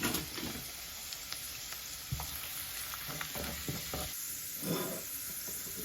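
Garlic fries in hot oil for a Bengali kakrol and rohu fish curry, giving a constant close sizzle with occasional clinks and scrapes of stirring.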